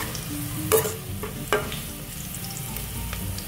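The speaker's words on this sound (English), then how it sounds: "you need to stir it well" Amaranth soup is stirred in a pot as it cooks, with a soft continuous simmer and two sharper scraping clanks of the utensil against the pot.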